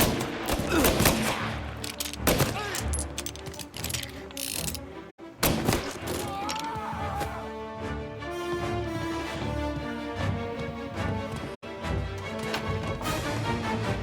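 Gunfire in the video game Mafia Definitive Edition, rapid bursts of sharp shots and mechanical clatter early on, then a steady stretch of loud game music and effects with brief drops to silence.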